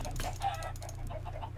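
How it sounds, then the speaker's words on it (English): Several chickens cluck in the Minecraft video game, a run of close, repeated clucks over a steady low hum from the game. "I think it's time to dispose of some of these chickens."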